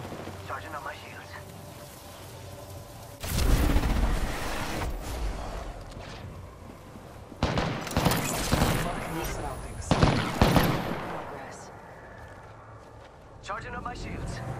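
Bursts of automatic gunfire in Apex Legends arrive in three loud clusters separated by quieter stretches of ambient wind-like noise, with voices speaking during the action.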